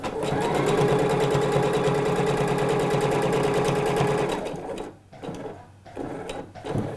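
A sewing machine runs a basting seam about 7-8 mm from the fabric edge of a pair of trousers. It hums in one steady, close run for over four seconds, then stops, leaving light handling noises.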